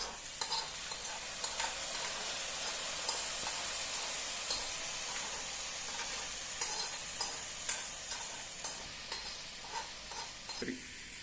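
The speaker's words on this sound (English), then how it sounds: "Now the coconut has been fried golden brown. We are going to garnish this into the payasam." Golden-fried coconut pieces sizzle steadily in hot oil over payasam for Ada Pradaman, a continuous bright hiss punctuated by small clicks and pops, with no voices over it.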